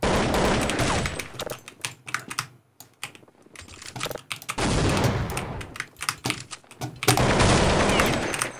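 Gunfire in Counter Strike 1.6, rapid bursts of automatic shots in clustered volleys separated by brief quieter gaps, loud and close.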